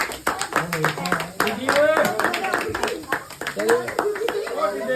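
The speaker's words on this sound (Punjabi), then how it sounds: "ਜੋਰ ਦੀ ਤਾੜੀਆਂ ਮਾਰੋ ਜਾਣ ਜੀ ਜੋਰ ਦੀ ਤਾੜੀਆਂ ਮਾਰੋ" People clap rhythmically and loudly at a child's sixth birthday celebration, the steady claps running throughout under voices singing and talking.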